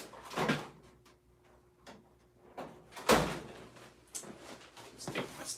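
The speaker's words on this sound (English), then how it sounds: "The tape drawer." A workshop tape drawer being opened and shut, giving several short sliding and knocking thumps with a sharper bang near the middle, close to the mic.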